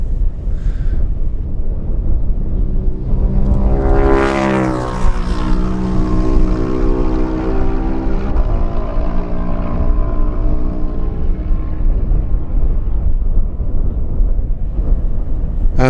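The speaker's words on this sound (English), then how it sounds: "here comes number 23, Brian Appleton, on his Suzuki" A Suzuki racing motorcycle in a lightweight road race approaches and screams past close by, its engine note rising to a sharp peak and then falling away as it recedes into the distance, with steady wind noise throughout.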